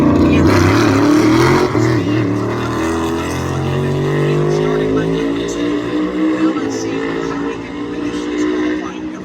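A NASCAR race car at North Wilkesboro Speedway roars loud and close at the start, then its engine fades into a steady drone as it moves away down the track.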